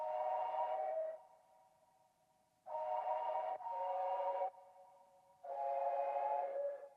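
A minor chord sound from a producer's sample pack, a hollow tonal synth tone sounded in four separate swells with short gaps between them, fairly quiet with a soft airy texture.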